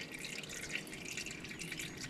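Used oil drains from a spun-off filter on a John Deere F725 mower into a catch pan, a faint, steady close trickle with small dripping sounds.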